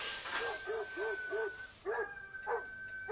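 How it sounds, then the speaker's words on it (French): A dog barks repeatedly in a 1972 film scene, a regular series of short yelping barks at moderate distance over a steady background hum, pausing briefly then resuming. "Un chien, maintenant."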